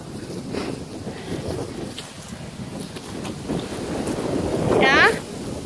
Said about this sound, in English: Oh, the wind is blowing me, Giddy!